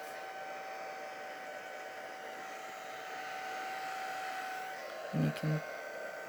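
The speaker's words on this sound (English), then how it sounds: "Then you can use your heat tool. I would start low if you have a low setting on yours." A heat tool blows a steady whooshing hum close by as it is used on alcohol inks on vellum. The hum runs throughout, with a brief voice near the end.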